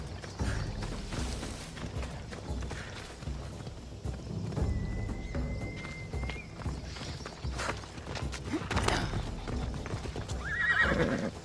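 Horse hooves clip-clop steadily in Assassin's Creed Odyssey, with a whinny and faint creaking tack over a soft game ambience, close and continuous with no voices.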